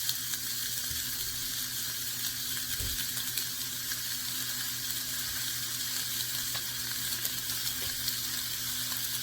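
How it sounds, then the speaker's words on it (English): Sausage browning in a hot pan as it is broken up, giving a constant dense sizzle that fills the whole stretch without pause, close and even, with a faint low hum beneath. "Just brown up the sausage, break it up."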